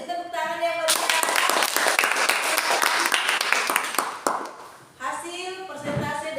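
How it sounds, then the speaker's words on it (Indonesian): A classroom of students applauds a student group after a presentation, a burst of lively clapping lasting a few seconds between stretches of a teacher's speech. "Ya, beri tepuk tangan yang meriah."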